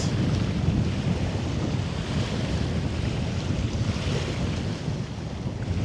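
Choppy sea waves roll on the Tay Estuary, a steady dense wash of water and surf mixed with heavy wind buffeting the microphone, continuous and close, with no talking.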